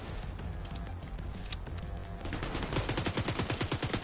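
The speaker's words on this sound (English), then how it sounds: "Shotgun" Shotgun blasts crack out as a few sharp reports, followed by a quick run of rhythmic, repeated shots that stay moderately loud throughout.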